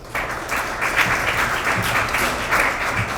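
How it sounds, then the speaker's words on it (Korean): Applause from a forum audience at a Korean Christian press event, greeting a young award-winning journalist as he is introduced; steady, dense clapping fills the room throughout without a break. "박수로 환영해 주시기 바랍니다."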